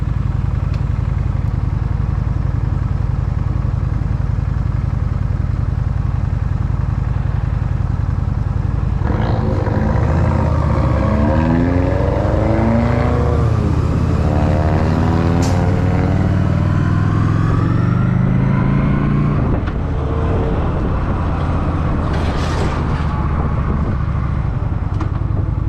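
A Honda motorcycle revs and pulls away on a private road during a test ride, its engine rising and falling through several gear changes, loud and close, then settling into a steady drone.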